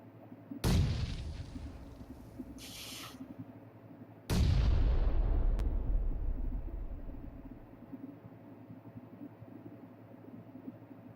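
Loud gunfire bursts in a video game battle between squads, two heavy booming volleys a few seconds apart, each rolling off into a long rumbling decay over steady background ambience.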